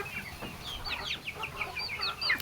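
Silkie chickens, hens and a rooster, cluck and chatter softly in quick, high little calls, several birds overlapping in a quiet yard.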